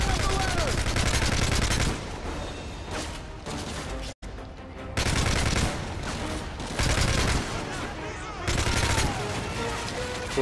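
Sustained automatic gunfire from a Call of Duty: Modern Warfare 3 campaign firefight, loud bursts stacked with crashes and game music, dropping out briefly midway before resuming; a voice speaks over the shooting.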